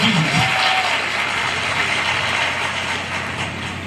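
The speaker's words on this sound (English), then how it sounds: "Let's give Jesus a round of applause." Applause at a traditional wedding party, a dense, steady wash of clapping from a crowd that carries through the whole stretch, fairly loud and close, with faint voices mixed in.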